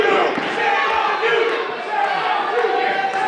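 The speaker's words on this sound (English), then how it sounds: "The crowd's chanting shame on you" A wrestling crowd at a live independent show chants in unison, a loud, dense roar of many voices filling the hall with rhythmic shouting throughout.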